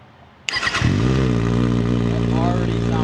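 A 2024 Kawasaki ZX6R fitted with a full titanium Graves exhaust fires up abruptly after a moment of quiet, the starter catching into a loud, steady idle close by.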